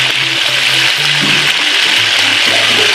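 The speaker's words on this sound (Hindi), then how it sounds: "इनको भी हम तकरीबन 7 मिनट के लिए फ्राई करेंगे" Chicken pieces frying in a pan in oil for a steam roast recipe: a loud, continuous hissing sizzle with bubbling crackle, steady throughout, with faint low tones underneath.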